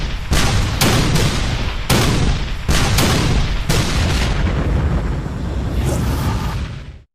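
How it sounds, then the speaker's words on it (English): Cannons of a massive artillery barrage at the Battle of Gettysburg boom in quick succession, about seven heavy blasts, loud and close, with rumbling echoes that never fade between shots. "The largest artillery barrage ever in North America is about to begin."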